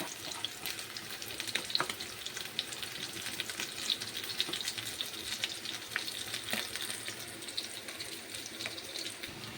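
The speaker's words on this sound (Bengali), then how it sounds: "অল্প করে কাজুটাও ভেজে নেব" Cashews frying in a little oil in a home kitchen pan, a steady bright sizzle and crackle running continuously with occasional louder pops, close and alone without talk.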